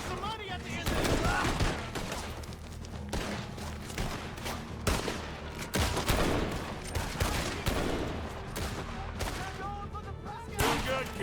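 Gunfire in a Red Dead Redemption 2 gunfight at Granite Pass, with double-barrel shotguns and rifles cracking in rapid, irregular volleys near and far, mixed with shouted game dialogue and scattered music.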